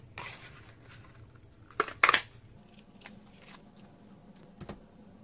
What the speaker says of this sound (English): So I just cut out one of these.